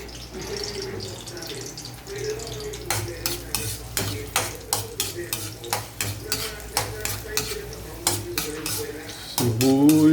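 Onions are stirred and sautéed in a pan with a soft sizzle, under a rapid, regular run of loud spoon scrapes and clanks against the metal, close up, with a voice speaking partway through.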